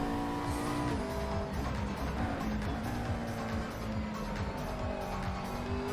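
Racing cars in the video game GT4 drone with a continuous engine roar, shifting revs and intermittent tire squeal, steady and fairly loud, with no voices.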